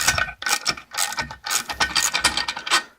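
A brass shift bushing is pulled from an Evinrude outboard lower unit, giving loud bursts of rapid ratcheting clicks and grinding in uneven spurts with brief pauses between them.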